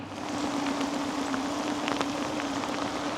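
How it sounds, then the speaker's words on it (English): Heavy rain pouring at a river below a dam while fishing for striped bass, a dense steady hiss of drops hitting surfaces with scattered closer patters and no talk. "It's 8:45 just for the record, and it's pouring right now."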